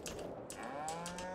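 Cows lowing in the farming video game Farming Simulator 22, several overlapping moos heard faintly in a quiet scene.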